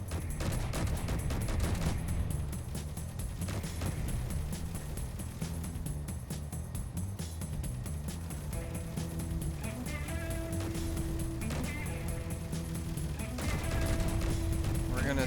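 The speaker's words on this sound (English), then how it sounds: "Machine guns, do me a favor. Let's not let that get on our top side," Machine guns on a ship in the space building game Space Engineers fire in sustained, rattling bursts over a constant engine drone, with tonal game sounds chiming in later.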